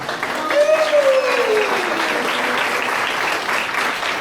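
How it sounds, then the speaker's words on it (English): An audience at a student music recital claps steadily and enthusiastically, with a voice and a rising-falling tone heard over the applause. "Now you can applaud."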